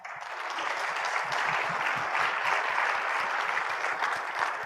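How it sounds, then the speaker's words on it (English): Keynote audience at a young entrepreneur's address breaks into steady, dense applause that holds evenly at a moderate distance throughout. "So let's give ourselves a round of applause."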